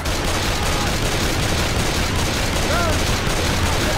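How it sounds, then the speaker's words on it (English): Machine gun fire in a zombie survival game, a dense, continuous, loud burst of rapid shots with battle noise throughout and a faint voice underneath. "Machine gun over here too."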